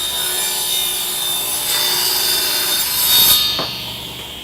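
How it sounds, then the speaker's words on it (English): A table saw rips through 3/4 inch MDF with a loud, steady broadband whine, rising slightly before the blade spins down near the end, with no talking. "Reme's gonna fire up the saw and we're gonna cut some wood"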